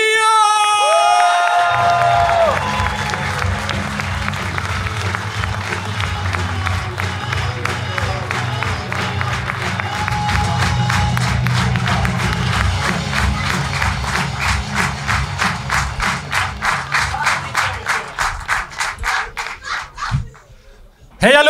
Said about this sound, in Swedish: En stor applåd för Johnny och Mattias!